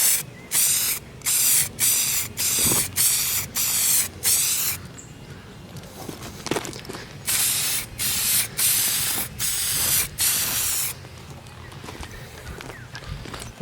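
Primer sprayed from an aerosol can onto the boot of a Nissan Silvia S15 200SX, heard as a run of short, close hissing bursts in steady rhythm, a brief gap, then another series of bursts.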